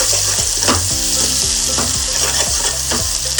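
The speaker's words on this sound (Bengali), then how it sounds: "এবার রসুনটা ভালোভাবে আমি পেঁয়াজের সাথে মিশিয়ে নেব।" Garlic paste is stirred into onions frying in a pan, the spoon scraping in a steady rhythm of strokes over a loud, continuous sizzle.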